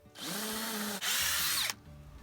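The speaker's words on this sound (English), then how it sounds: "Drill our pilot holes." A power drill boring pilot holes in a panel for bolts, two sustained whirring bursts with a brief break between, loud and close, then stopping.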